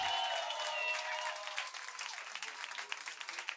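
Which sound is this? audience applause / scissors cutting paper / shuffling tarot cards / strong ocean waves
audience applause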